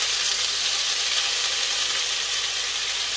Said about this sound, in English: I'm going to be adding my blended onion, garlic and ginger paste.